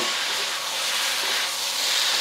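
Beef and its juices go into a hot wok for a ginger and spring onion stir fry, setting off a loud, continuous close sizzle that hisses evenly throughout, with no voices.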